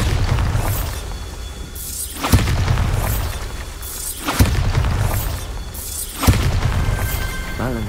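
Spell blasts in the fantasy video game Hogwarts Legacy, three loud booming explosions with shattering debris about two seconds apart, each cracking sharply and then rumbling over continuous dense game ambience.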